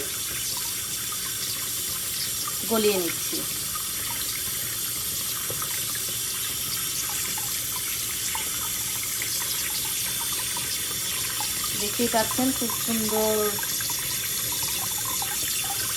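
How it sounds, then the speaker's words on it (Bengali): Hot water runs steadily from a tap over frozen pabda fish, a continuous even hiss and splash, with a person talking briefly in two short spots. "গরম পানি ছেড়ে দিয়েছি এবং পেছনের যে বেশি পরিমাণে আইসটা থাকে সেটাকে আমি গরম পানি দিয়ে"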